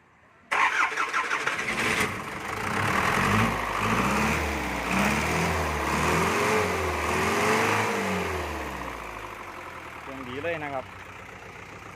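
An Isuzu NPR 120 six-wheel truck with a diesel engine cranks and starts, then settles into a steady, rumbling idle with a brief rev near the end.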